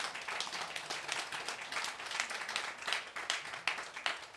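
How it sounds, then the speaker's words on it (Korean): A church congregation claps during a sermon, with many separate sharp claps forming an uneven, moderately loud patter that carries on steadily for several seconds without speech. "박수 한번 쳐주세요."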